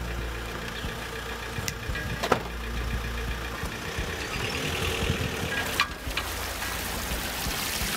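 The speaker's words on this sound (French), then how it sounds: "Rémi a choisi de m'emmener sur la Saône à bord de son bateau." A steady boat engine drones continuously at close range on the Saône river, with a low rumble and a few sharp knocks and splashes, no voices.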